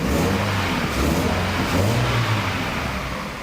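Peugeot 206 GT with a 2.16-litre engine running close by, revving steadily with a low, throaty drone that holds throughout and eases off slightly at the end; no voices.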